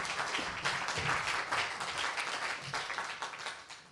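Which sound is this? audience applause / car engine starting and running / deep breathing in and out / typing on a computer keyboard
audience applause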